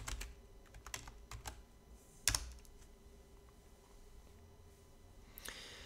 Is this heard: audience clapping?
no